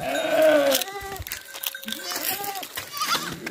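A young goat bleats at a farm with cattle, its wavering cries rising over children and adults talking nearby, with several short calls spread across the moment.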